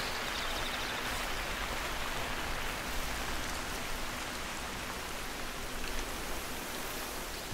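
Rain in the hunting game Hunter Call of the Wild near a lake, a dense steady hiss of falling rain that stays constant and even throughout with no talk.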